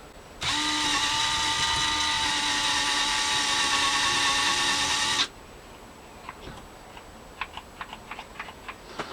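A battery drill runs continuously for several seconds, boring a hole into tough old wood in an allotment shed, a loud steady whine that stops abruptly, followed by faint scattered clicks and knocks.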